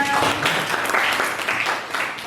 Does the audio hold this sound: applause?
yes